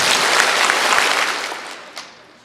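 A large student crowd at a Georgia DECA keynote claps together in a quick, loud burst that fades after about a second and a half, followed by one last stray clap.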